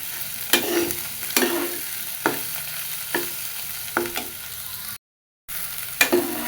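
Ash gourd and hilsa fish being stirred in a frying pan, with a spatula scraping in regular strokes about once a second over a steady close sizzle and a brief gap of silence.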